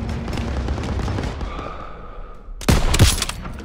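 A loud burst of gunfire and a heavy impact break in after a stretch of rumbling battle noise in a Call of Duty WWII street fight, near and sharp.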